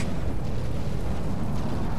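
Missiles exploding during a naval battle in the game From The Depths, a dense, continuous roar of overlapping booms and blasts, loud and sustained with no pauses and no speech.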